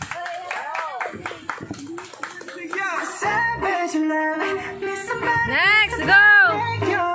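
Guests at a child's seventh birthday party at a resort clap together, the applause running throughout under loud singing and voices, with a voice rising near the end.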